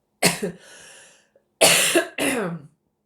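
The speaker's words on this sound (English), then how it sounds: "I do have to cough a lot." Three harsh coughs, close and loud: one at the start with a trailing breath, then two quick coughs in a row after a short pause.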